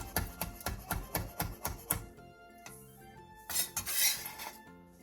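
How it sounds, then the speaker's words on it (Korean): A knife chops green onion on a cutting board in a home kitchen, giving a quick, steady run of crisp close taps for about two seconds before some quieter clinks and a brief clatter. "대파 3분의 1개를 쫑쫑 썰어 주세요."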